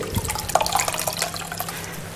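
Soaked bulgur is squeezed by hand over minced meat, giving close wet squelches with water trickling and dripping in short irregular bursts, with no talk.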